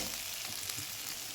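Chillies and spices being stirred in hot oil, a dense, even sizzle filling a short moment close by, without any voices.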